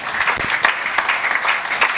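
A church congregation claps together in dense, steady applause, loud and close throughout, with no voices over it.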